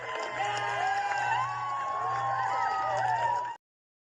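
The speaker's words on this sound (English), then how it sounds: "Let's throw some applause in there." A canned crowd sound effect plays, cheering and whooping over clapping, with a faint voice running underneath, steady throughout before cutting off abruptly.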